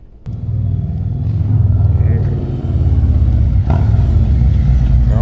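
A Harley-Davidson motorcycle engine idles steadily after a service with fresh fluids and new plugs, a loud, close, lumpy rumble that rises slightly partway through, with faint voices under it.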